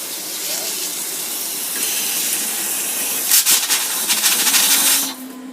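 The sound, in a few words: RV shower faucet running during winterizing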